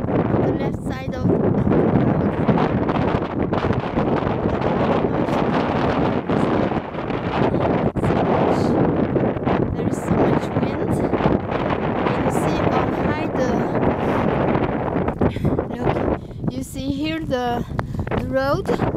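Strong wind gusts roar across a snowy roadside with drifts forming, buffeting the microphone loudly and continuously while a person talks over it.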